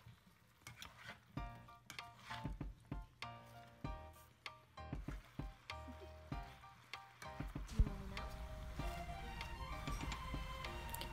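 Blanched mixed vegetables and scallops stir-fried in a hot wok, with steady sizzling and a run of close, rhythmic clacks and scrapes of a utensil tossing the food, growing busier and denser toward the end.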